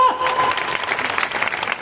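Applause from a church congregation at a Christmas service in Kotagarh, Kandhamal, a steady dense patter of clapping filling the space with a faint tonal whistle near the start.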